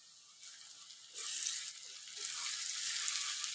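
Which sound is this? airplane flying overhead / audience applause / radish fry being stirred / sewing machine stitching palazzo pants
radish fry being stirred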